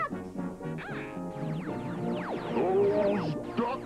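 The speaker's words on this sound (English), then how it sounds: "Those ducks are only made of rubber." Rubber ducks fired in a 1986 cartoon, a rapid burst of overlapping squeaky quacks and whistling swoops with clattering impacts, growing louder and busier toward the end.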